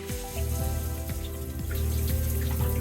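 A water pump starts up on a skoolie bus plumbing system, its low motor hum rising beside a steady rush of water running from the tap, fairly close and with no voices.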